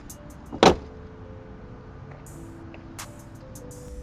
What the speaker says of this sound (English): Now let's go ahead and close the hood